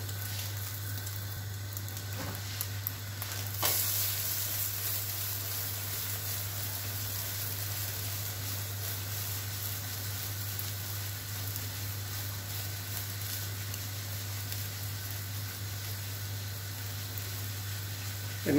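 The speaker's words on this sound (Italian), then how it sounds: "Giriamo tutto, lasciamo cuocere ancora qualche secondo." Ragù and hamburger fry in a pan with a faint, steady sizzle over a constant low hum, broken by a single scrape of stirring.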